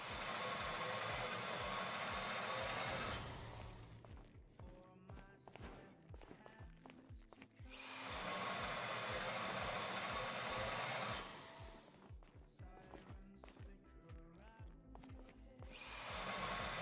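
A drill runs during a casino heist in the video game GTA V, a loud steady whine in long bursts that alternate with quieter, clattering stretches, with no talk over it.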